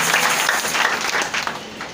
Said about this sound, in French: Je veux que tu l'acclames puissamment ce soir.